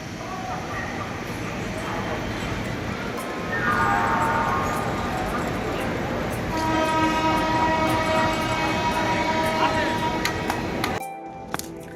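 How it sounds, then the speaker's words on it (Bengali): The Doon Express pulls out of Howrah station with a steady rumble of rolling railway carriages, a long horn tone rising partway through, and platform noise that cuts off sharply near the end. "আর আমাদের ট্রেন ছেড়ে দিল।"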